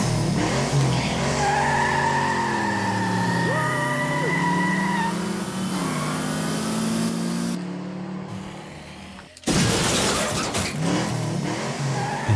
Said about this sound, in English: I got some racing car sound effects and added them to it.